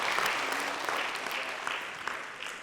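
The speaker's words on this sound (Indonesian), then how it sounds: "Mungkin boleh tepuk tangan semuanya sahabat jiwa," Studio audience applause on an evening religious talk show, a full, even burst of clapping that holds steady throughout the clip.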